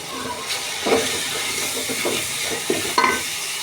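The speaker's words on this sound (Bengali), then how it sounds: "এবারে আমি মশলাগুলো দিয়ে দেবো এর মধ্যে, দিয়ে আবারও এটাকে আমি কষবো।" Meat frying in oil with spices added, a close hiss of sizzling broken by several stirring scrapes and clinks, with no talk.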